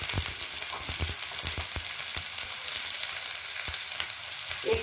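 Chickpeas tossed into fried onions in a pan, frying with a dense continuous sizzle and crackle, close up and fairly loud, with scattered small pops and clicks and no talking.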